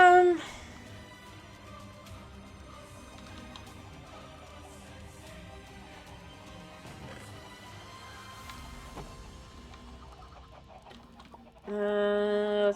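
Minecraft chickens cluck in short, scattered bursts over a steady game background, with louder game tones toward the end.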